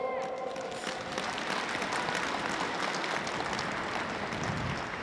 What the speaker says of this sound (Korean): 박수 한번 칩시다.